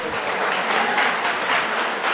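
Audience clapping for achievers at a ceremony, a dense continuous applause that stays loud and even throughout with faint pulsing swells.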